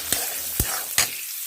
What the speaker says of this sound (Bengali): এবার আমি আলুটা ওই তেলেই দিয়ে ভেজে নিচ্ছি।